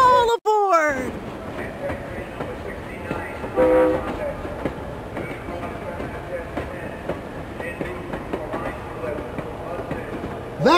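A cartoon train in the Busytown children's game pulls away, a rumbling run of rail clatter with a short horn toot near the start, while a voice talks over the departure.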